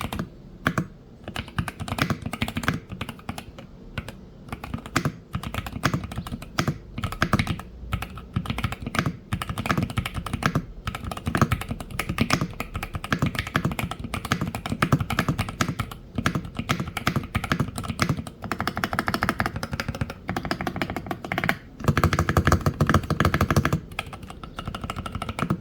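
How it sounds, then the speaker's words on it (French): Rapid typing on a Lemokey P1 HE mechanical keyboard with prelubricated switches, a steady stream of close, clacky keystrokes with brief pauses, no voices. "Je vous fais écouter le bruit des touches de suite."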